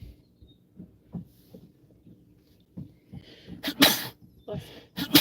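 A sharp sneeze bursts out near the end aboard a fishing boat chasing shallow-water bluefish, following quieter low thumps and murmurs, loud and close.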